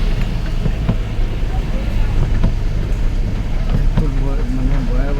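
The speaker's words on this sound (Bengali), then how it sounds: "বাতাস তুফান হয়ে আসতেছে" Strong nor'wester storm wind roars and buffets steadily, loud and close, with deep rumbling gusts and a low mechanical drone underneath, while a few faint bursts of voices come and go.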